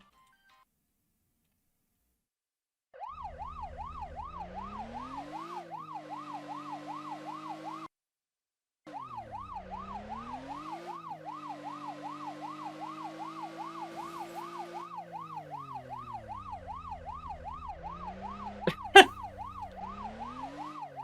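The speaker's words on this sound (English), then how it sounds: "I don't like the police sirens, they're very loud" After a few seconds of silence, a video game police car's warbling electronic siren wails up and down rapidly, cuts out briefly, then resumes with a couple of sharp clicks.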